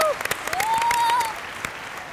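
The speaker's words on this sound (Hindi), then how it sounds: "जोरदार तालियां" A studio audience on a Hindi game show applauds in a dense burst of clapping, moderately loud, with a whistle-like tone rising through it before the clapping tapers off.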